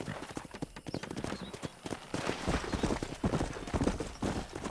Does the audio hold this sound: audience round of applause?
no